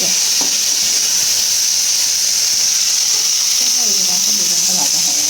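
Eggplant slices frying in a pan give off a loud, steady sizzle that hisses continuously up close, with faint household sounds and murmurs in the background.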